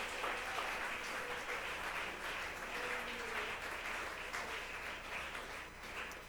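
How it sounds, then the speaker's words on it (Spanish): A church congregation breaks into sustained applause, a broad, even roar of many clapping hands that carries on for over six seconds, with some voices mixed in. "Dele ese aplauso a la presencia de nuestro Dios."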